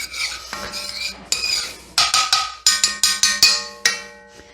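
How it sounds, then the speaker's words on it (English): Sauce stirred in a pan while beef braciole cooks, a quick series of sharp metallic scrapes and clinks against the pan in an uneven rhythm, close and fairly loud. "I'm just going to stir this a bit. Our sauce will stay nice and hot in this pan."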